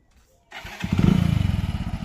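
A motorcycle engine starts after a short quiet moment and settles at once into a close, loud, rapid putter that fades slightly at the end.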